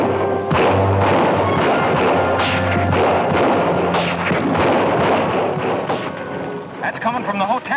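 A film scene with gunfire from hotel windows: rapid, loud shots crack and boom in dense, irregular bursts, close and echoing. Talk and other scene sounds run underneath, and the firing thins out toward the end.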